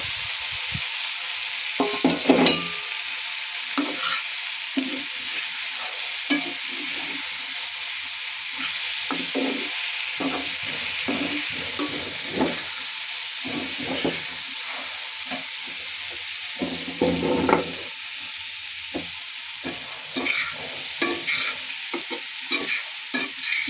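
Vegetables stir-fry in a pan, with a continuous sizzle broken by repeated scraping and stirring strokes that come in irregular bursts. No one speaks.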